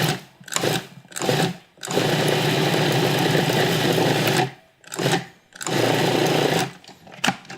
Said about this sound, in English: let the motor run a little longer, and you'll see the dough start to come together in the bowl of the food processor and clump